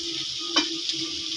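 A spoon stirs fish curry with turmeric in a pan over a steady, broad sizzle, with one brief scrape cutting through the frying hiss.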